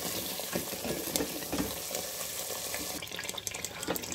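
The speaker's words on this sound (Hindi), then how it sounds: "अभी इसको खूब भूनने देंगे।" Masala frying in a pan for shahi paneer, making a soft continuous sizzle with light stirring scrapes, fairly quiet and close, growing a little brighter toward the end.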